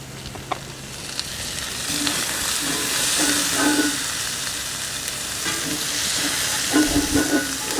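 Sausages seasoned with salt and pepper sauté in a pan, giving off liquid, with a steady close sizzle and hiss throughout, broken by a few brief scrapes and clinks of a utensil against the pan.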